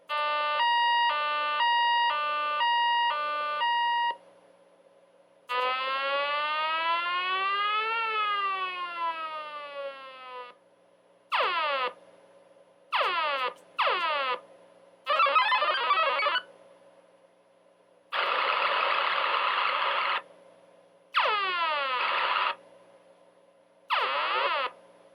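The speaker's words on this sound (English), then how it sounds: "We start with a two-tone siren, and then a sliding siren, a laser shot, and noise and bleeps and bloops." Electronic sound effects from an X9C digital potentiometer circuit: a stepped two-tone siren, a sweeping sliding siren, then short laser-shot zaps, a burst of noise and bleeps, each clean and loud with brief gaps between.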